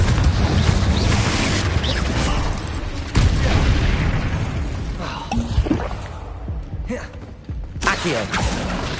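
A Confringo blasting spell erupts in Hogwarts Legacy, with loud booming blasts and crashing impacts, a sharp hit near three seconds, and fainter bursts later as the noise drops and returns.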